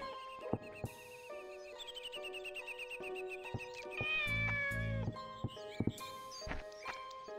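In the Shenmue video game, a cat gives repeated drawn-out meows, with one louder caterwauling cry midway, over soft background music and scattered clicks.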